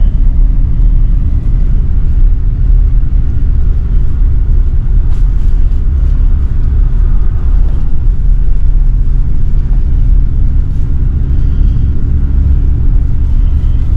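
A vehicle towing a hooked-on trailer with sloppy hitch play rolls along, giving a loud, continuous low road rumble and engine drone without a break for the whole stretch.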